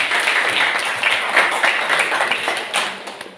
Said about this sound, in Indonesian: Tepuk tangan dulu untuk kelompok 1 dulu